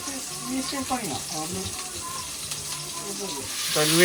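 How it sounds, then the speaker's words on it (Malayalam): Chicken shallow frying in a pan gives a steady sizzle throughout, with a person talking over it the whole time. "ചിക്കൻ ഷാലോ ഫ്രൈ ചെയ്യുന്നത് ഫ്രൈ ചെയ്തെടുത്താൽ മതി"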